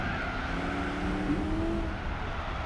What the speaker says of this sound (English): The sounds that the car makes when idling, it's really that very thumpy V8 rumble.